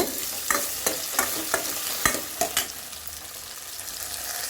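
Small onions sautéing in oil in a kadai, a continuous soft sizzle broken by sharp spoon taps and scrapes against the pan, close and moderately quiet.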